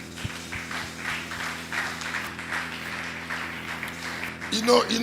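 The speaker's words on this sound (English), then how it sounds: "I thought you should clap at what I just said" A church congregation claps after a sermon by a reverend, a steady ripple of mid-distance applause with voices murmuring through it, swelling louder near the end.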